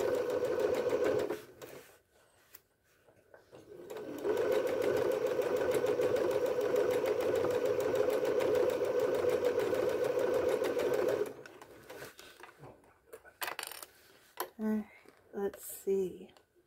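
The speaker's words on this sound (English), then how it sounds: "I'm sure I'm gonna have to do the bobbin soon, because overlock takes a lot of the bobbin." A sewing machine runs an overlock stitch in a long steady mechanical whir, stops briefly, then starts again. Later come short stop-start bursts, with a voice heard close by.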